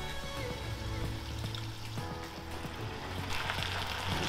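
Red wine poured into a hot Weber Baby Q pan of lamb shanks with flour, tomato puree and rosemary, giving a steady hiss and sizzle with a few soft knocks, close and continuous.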